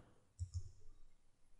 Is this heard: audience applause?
no